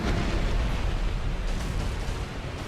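Black Dragon Kalameet from Dark Souls breathing fire: a loud, steady roaring rush of flame with deep rumble, sustained for a few seconds and easing slightly at the end.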